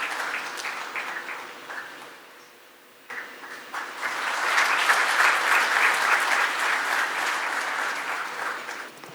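An audience at a CAF football confederation general assembly claps hands, first sparse scattered clapping, a brief lull, then a fuller sustained round of applause from a large crowd.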